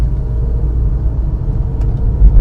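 A Porsche 911 997.2 creeping along in first or second gear with no pedal input, steady low engine rumble and road noise, close and continuous without voices.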